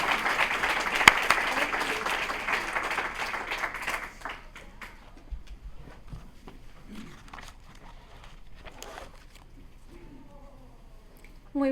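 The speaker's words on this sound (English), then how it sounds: "Let's give her a hand of applause." Applause from an audience at a community State of the District event, loud and steady for about four seconds before quickly fading to scattered claps and faint room noise.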